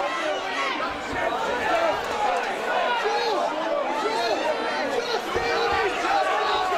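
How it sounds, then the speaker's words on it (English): A packed crowd at a Leeds boxing fight in February 2017, Joe Dempsey against Ciaran Keenoy, screams and cheers without pause, a dense wall of roaring voices that holds steady throughout. "This Leeds crowd screaming for Dempsey."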